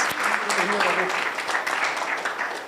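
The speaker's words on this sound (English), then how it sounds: "We give him a round of applause" Broadband crowd clapping at a scientific conference in a beach resort fills the clip steadily at moderate loudness, with a voice briefly audible underneath.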